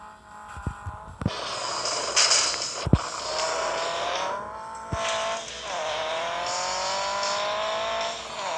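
A race car in a video game drifts and speeds, engine revving continuously with tire squeals and a few sharp impact thumps, loud and steady throughout with nitro boosts and ramp jumps.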